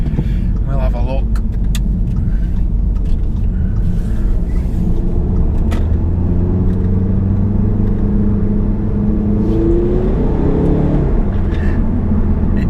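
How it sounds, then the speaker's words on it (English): An Audi A3 diesel saloon in dynamic mode accelerates on roads with roundabouts, its engine a loud, steady rumble with rising revs and gear changes, close up from inside the car. "It doesn't sound the best because it's diesel, right?"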